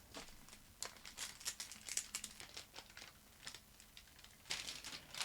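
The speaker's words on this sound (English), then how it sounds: "lift up the transfer tape" Transfer tape being peeled up off cut vinyl during a Cricut phone-decorating project gives close, crackly crinkling and sticky tearing bursts in an uneven run, louder near the end, with nobody talking.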